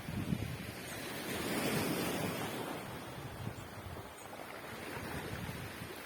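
Ocean waves washing onto a beach, a steady broad rushing surf with gentle swells and some wind buffeting the microphone, no voices.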